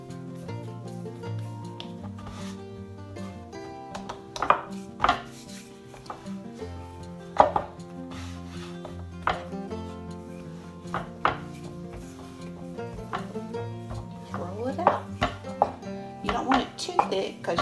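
Dumpling dough for chicken and dumplings is cut into strips, with sparse, irregular chopping thuds close by and short gaps between cuts.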